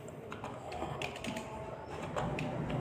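Rapid keystrokes on a computer keyboard, a steady run of close, light clicking taps over a faint background hum.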